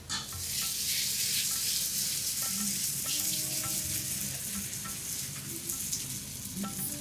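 Kocchakki rotti, a North Karnataka flatbread, sizzles and crackles steadily on a hot griddle, a dense continuous frying hiss close by with occasional faint clicks and no talk.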